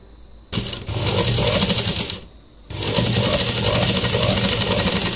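A sewing machine stitches the side seam of women's cigarette trousers with pockets in two loud, close, rapid runs separated by a short pause.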